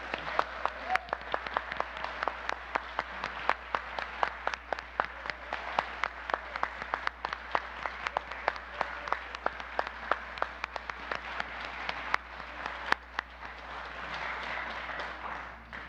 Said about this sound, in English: let us offer our warm applause to the newest members